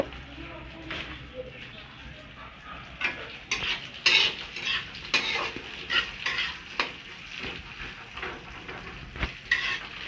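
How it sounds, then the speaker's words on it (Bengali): Rice being fried in a pan with cashews and raisins for basanti pulao, with soft steady sizzling and intermittent scrapes and clinks of a spatula stirring against the pan. "এর সাথে আমি চালটাও দিয়ে দেব। একটু ভেজে নিচ্ছি।"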